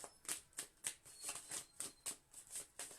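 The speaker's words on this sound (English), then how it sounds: "Just going to shuffle a little bit for you." Repeated crisp riffles of cards being shuffled, about ten evenly spaced bursts, close and quiet with no talking.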